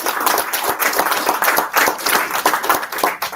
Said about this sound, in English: I'd just love if you could just give them a round of applause.